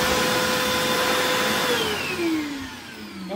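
A Vacmaster 2.5-gallon, 2 hp shop vacuum whirs loudly and steadily, its pitch sliding down near the end as the motor slows, with no voices.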